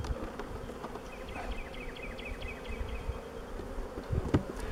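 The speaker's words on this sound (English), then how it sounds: "So I'm just going to shake the bees in there." Honey bees hum steadily and close as they are shaken from a frame into a hive during a hive split, with a few soft knocks near the end.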